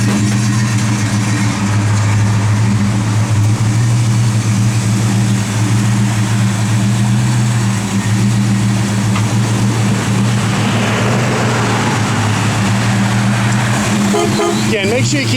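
Blower motor of a 1970 Plymouth GTX running as a steady low hum with a strong constant tone, close, under voices talking nearby.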